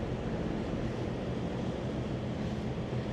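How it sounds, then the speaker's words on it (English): Strong wind roars steadily across the open deck of a Stena Line ferry sailing from Holyhead to Dublin, a dense unbroken rush of noise with low buffeting and surf-like wash throughout, with no voices. "Oh my gosh, it's so windy."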